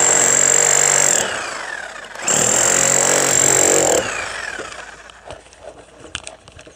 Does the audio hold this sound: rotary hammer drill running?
yes